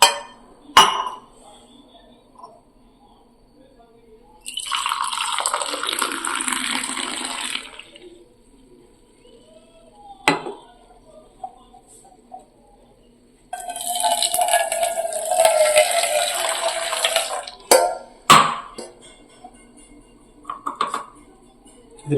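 Coffee with sugar is poured back and forth between two vessels to mix, two long splashing streams separated by quiet gaps, with sharp clinks of the metal cups in between.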